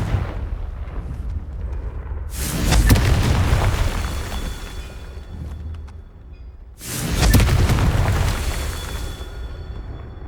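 Two Confringo spell explosions in the Hogwarts Legacy video game, each a loud, sudden booming blast with a long rumbling decay, the first at a few seconds in and the second several seconds later, over a low ambient background.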